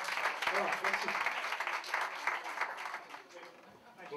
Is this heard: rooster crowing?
no